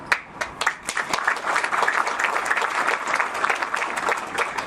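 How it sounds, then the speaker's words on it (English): Audience applause at a Liberal party fundraiser, a steady wash of many hands clapping with a few sharper claps standing out, sustained at even loudness for the whole stretch. "I know you clap"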